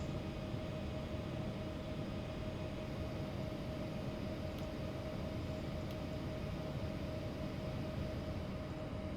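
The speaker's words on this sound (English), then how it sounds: "Let's start the engines." Embraer E190 jet engines spin up in the X-Plane flight simulator as a steady, even whine with a constant roar underneath, loud and unchanging throughout.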